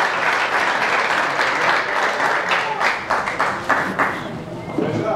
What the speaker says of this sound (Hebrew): מגיע להם מחיאות כפיים לבנות פה למעלה